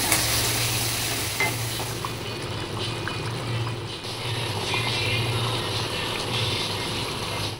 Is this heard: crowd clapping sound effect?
no